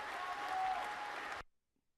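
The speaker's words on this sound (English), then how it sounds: "Get that applause back." Studio audience applause at a television taping, a loud burst of many hands clapping that swells and then cuts off abruptly after about a second and a half, leaving silence.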